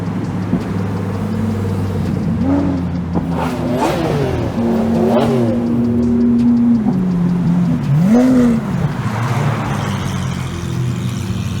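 Lamborghini Aventador Ultimaes with Gintani exhaust and other supercars revving and pulling away in Brisbane, loud engine notes rising and falling through several throttle blips and gear sweeps over a constant rumble.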